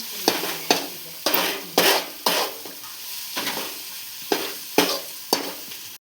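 Pav bhaji masala being stirred in a frying pan, with a sequence of scraping spatula strokes over a soft sizzle, close and steady.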